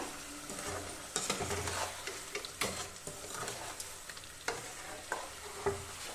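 Roasted ground mung dal is stirred into a pan of potato curry, with a soft sizzle beneath repeated sharp spatula scrapes and knocks arriving roughly once a second, close and clear.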